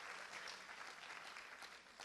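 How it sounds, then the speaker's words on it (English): Audience applause at an incoming grade 9 school orientation, a dense, even wash of clapping that continues for the whole stretch, fairly soft and distant with no voices on top. "Thank you for the applause."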